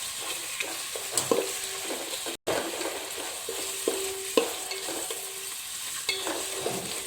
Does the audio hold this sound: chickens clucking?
no